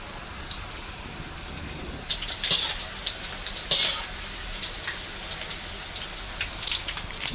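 Thin potato slices for barbecue-flavoured crisps drop one by one into hot oil, giving a constant bubbling crackle that swells into louder sizzling bursts as each slice goes in, close and with no voices.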